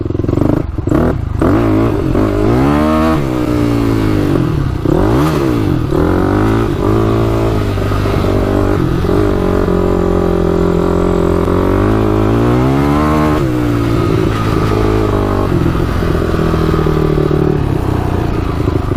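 A loud, close Yamaha YFZ450 quad ATV engine revving up and down repeatedly, the pitch rising and falling through the whole stretch with some mechanical rattle.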